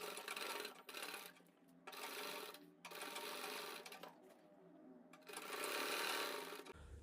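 A sewing machine stitches a piping strip onto a kurti neckline in several quick bursts of rhythmic whirring separated by brief pauses, close and moderately quiet, with no talk over it.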